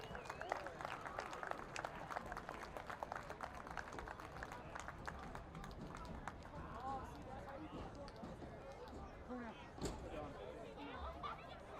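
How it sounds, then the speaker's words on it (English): Audience applause rises faintly at a high school football game between Benedictine and Cleveland Heights, steady scattered clapping from a distant crowd with chatter mixed in throughout. "Please give him a round of applause, too."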